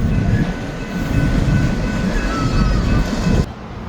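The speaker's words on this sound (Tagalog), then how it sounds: "Wala na yung train." A train rolls past near the White Rock pier, a loud, close, continuous rumble with rattling wheels and faint squeals that cuts off abruptly near the end.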